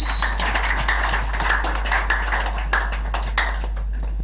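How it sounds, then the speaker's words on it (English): Clapping at a Brekete Family radio programme: scattered, sharp hand claps arrive at an uneven pace over a steady low electrical hum, fairly close and distinct rather than a full crowd ovation. "Make una clap for him."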